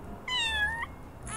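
A cartoon kitten meows in the video game Little Kitty Big City: one clear, drawn-out meow, then a second shorter meow beginning at the end, both close over a low ambient game background.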